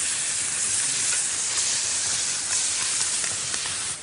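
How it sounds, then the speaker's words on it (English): Trout searing on a hot shovel over a wood fire, a loud, continuous close-up sizzle and hiss of frying fish that holds steady throughout with no talk. "Next, trout, cooked on a shovel. Look at that, instant sear."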